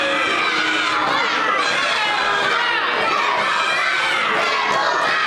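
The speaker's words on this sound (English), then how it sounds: "You hear the crowd." A large, excited crowd roars and cheers continuously at a live wrestling show, a dense wall of shouting and high-pitched yells that stays loud and steady throughout.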